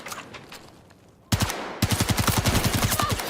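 Automatic gunfire in the shooter game Battlefield 2042: a quiet lead-in, then a loud burst that breaks into a rapid, steady run of rounds close up, with no talking.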